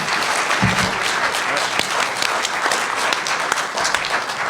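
Audience at a comic convention panel giving a steady round of applause, loud close clapping that continues for the whole stretch with a few voices faintly underneath.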